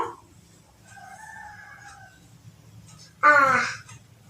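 A rooster crows close by and loudly near the end of the clip. Before that come a short cluck and a softer drawn-out tonal call, over a low hum.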